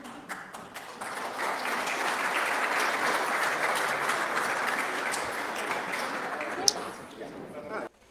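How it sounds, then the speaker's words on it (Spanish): Large audience applauding a presidential candidate at a university debate event, a dense, sustained roar of clapping lasting several seconds before tapering off abruptly near the end. "Increíble cómo lo aplaudieron, amigos."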